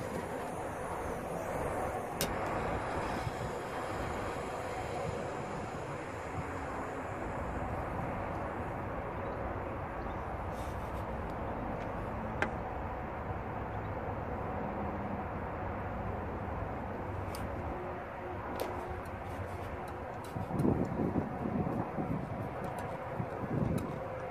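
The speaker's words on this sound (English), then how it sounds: "wind is terrible." Strong wind blowing outdoors during a roadside repair of a 2007 Vauxhall Opel Astra H, a steady low rumbling roar of buffeting across the mic, continuous and fairly loud, with no talking.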